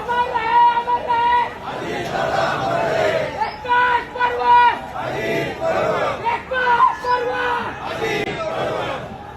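A large crowd of grieving people cries out together, their loud, strained voices rising and falling in waves throughout, close and continuous.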